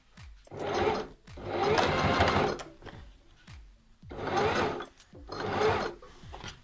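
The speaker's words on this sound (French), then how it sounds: "Et on pique la surpiqûre." Sewing machine topstitching the waistband of denim jeans being taken in, running in four separate bursts of rapid stitching with brief pauses between them.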